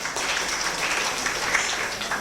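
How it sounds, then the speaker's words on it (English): An audience at a Rotaract club event in Kampala applauds, a steady, moderately distant wash of many hands clapping without pause. "Let's clap for him."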